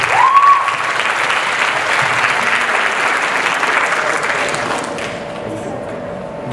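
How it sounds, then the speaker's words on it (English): Audience at an 11th-grade graduation ceremony applauds the teachers, loud, sustained clapping from a large crowd with a brief whistle at the start, fading slightly toward the end. "Let's applaud our teachers."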